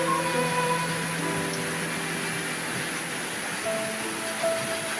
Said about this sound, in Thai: ฝนตกหนักมากเลย ร้านเรา ก็กลายเป็นทะเลแล้ว